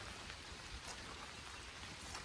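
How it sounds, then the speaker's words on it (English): Light rain falls steadily outdoors near a river in New England, a faint, even patter of drops on surfaces without talk. "I do like walking in the light rain because it sounds so nice."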